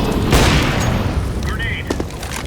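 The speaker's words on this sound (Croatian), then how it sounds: "Deploying flashbang." A flashbang grenade thrown in the video game CS:GO gives a loud blast and a burst of noise, followed by a brief metallic ringing and clatter, with voices talking underneath.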